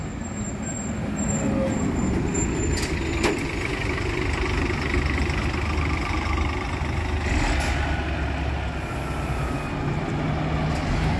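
A Rápido D'Oeste intercity coach passes through a bus company garage in Ribeirão Preto, a steady loud engine rumble and road roar that stays close throughout with a faint high whine above it.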